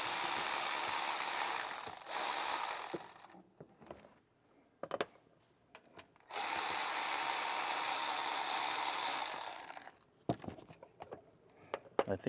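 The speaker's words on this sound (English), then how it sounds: "Now we're gonna remove these bolts." Bolts on a truck's thermostat housing are loosened with a ratchet: two long bursts of rapid, close clicking, separated by quieter gaps with scattered small metallic taps.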